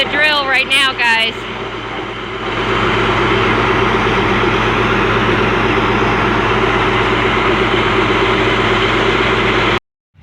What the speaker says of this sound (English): They got the drilling rig in. They're setting it up.